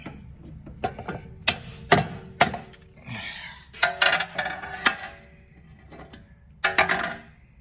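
Repeated metallic clinks and knocks from hammering a 2012 Cadillac SRX's front stabilizer links back and forth to snap them off, in irregular bursts of sharp close strikes with short pauses between.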